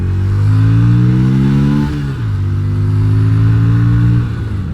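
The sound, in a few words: Yamaha Virago XV250 motorcycle accelerating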